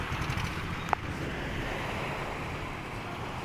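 Steady roar of sea waves washing on a shore, with wind noise across the microphone and one brief sharp click early on; no talking.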